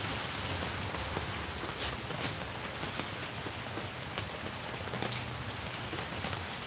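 Rain falls steadily outdoors, a soft continuous hiss with faint scattered drop ticks, fairly quiet and heard alone without talking.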